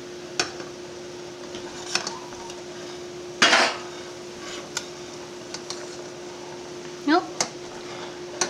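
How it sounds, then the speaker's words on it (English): A spoon stirs sugar in a pot for a chai tea latte, making a few scattered clinks and scrapes against the metal over a steady low hum, with one louder clattering burst midway. "Stir until fully dissolved."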